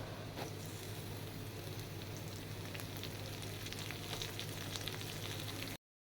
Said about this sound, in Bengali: গাজরটা আর পেঁয়াজটা 5 মিনিটের মতো ভেজে নেব